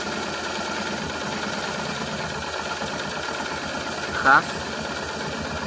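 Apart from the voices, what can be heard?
rough idle of a Honda Transalp motorcycle engine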